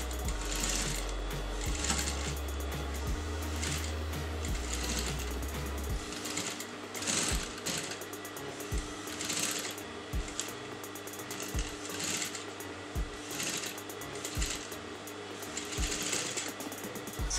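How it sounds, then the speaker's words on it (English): Sewing machine stitching the neckline of a kameez, a steady mechanical whir of needle strokes running alone and fairly close, with brief pauses and restarts as the fabric is guided. "I'm going to sew this from this point"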